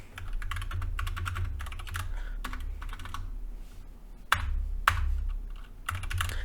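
Typing on a computer keyboard close up, quick runs of key clicks broken by short pauses, with a few louder single key strikes.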